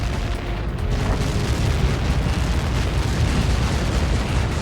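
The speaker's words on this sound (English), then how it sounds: "How many got caught in that explosion?" A big blast from Helios projectiles in Ace Combat 7, heard as a loud, sustained roaring rumble that swells after a brief lead-in and holds steady to the end.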